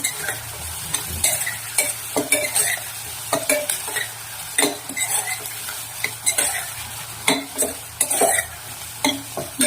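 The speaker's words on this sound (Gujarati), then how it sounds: "થોડી વાર માટે આપણે એને સાંતળી લઈશું।" Poha and onions are sautéed in a pan for Gujarati batata poha. A soft constant sizzle runs under frequent, uneven scraping and tapping of a spoon against the pan, close and clear, with no voices.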